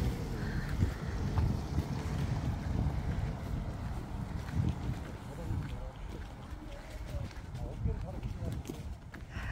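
Cold wind at a South Korean ski resort in below-freezing weather blusters steadily into the microphone as a low, rough rumble. Faint voices seem to talk underneath.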